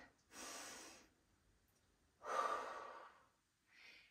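Deep breaths drawn during a squat workout: two long, full inhales a second apart, then a shorter, softer third breath, close and clear against a quiet room.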